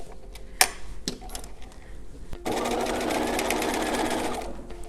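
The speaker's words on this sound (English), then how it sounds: "make sure that if you have pleats, that you're sewing the pleats down." A sewing machine stitches down the pleats on an off-the-shoulder shirt, running in a steady close whir for the last half after a few scattered clicks and handling noises.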